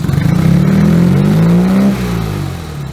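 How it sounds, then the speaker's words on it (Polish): A turbocharged Fiat 126p engine with three throttle bodies on two carburetors revs up, its pitch climbing steadily, then drops back as the throttle is released, close and loud with no voices. "dodam gazu ładnie, ładnie przyjmuje gaz"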